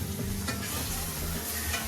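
Chicken seasoned with salt and pepper sizzles steadily in a hot pan at a family outdoor camp kitchen, a dense close frying hiss with faint stirring.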